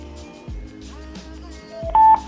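A Sakumini Y2 Bluetooth speaker plays its TWS pairing notification, a short run of bright electronic tones and beeps that ends in a louder, sustained chime.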